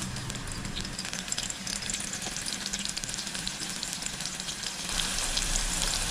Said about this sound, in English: So first of all, I'll be frying this in there. So let's fry it.